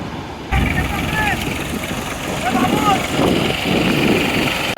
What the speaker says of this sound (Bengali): এই গাড়িতে নৌকাটাকে টেনে একদম আপনার বালুচরে নিয়ে যাবে